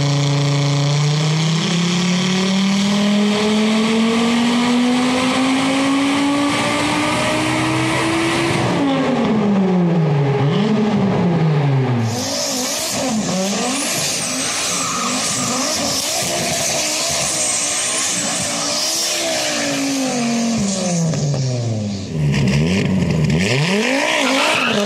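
A loud turbocharged five-cylinder engine in an all-wheel-drive Audi Quattro revs hard, climbing in pitch, dropping at each gear shift and climbing again, with a whining, roaring tone throughout.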